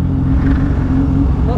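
Kawasaki Z H2 supercharged motorcycle engine running loud and close in a steady, sustained rumble, briefly and with a voice partly over it.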